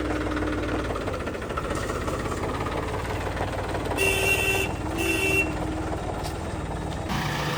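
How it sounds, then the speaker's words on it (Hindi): A Swaraj 855 FE tractor engine runs steadily at idle while a pond is being dug, a continuous low mechanical drone with a slight metallic ring, close and fairly loud, with no talking over it. "इस ट्रैक्टर का जो साउंड है ना, वो आज तक मतलब किसी ट्रैक्टर में आता नहीं है ऐसा साउंड"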